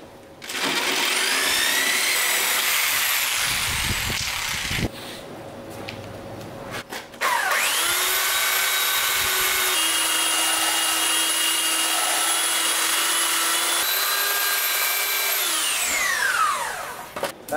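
A power tool whines at high speed as it cuts through an acrylic yacht window, with a long loud run, a brief pause with a lower hum, then another sustained cutting pass that winds down at the end.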